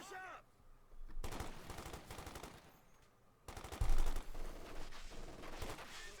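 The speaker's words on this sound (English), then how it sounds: "Pioneers being shredded here by the incendiary armor piercing rounds, almost wiped out" Bursts of rapid machine gun fire rattle in the Company of Heroes 2 battle, two long loud volleys separated by a quieter pause, with a heavy impact and a faint voice underneath.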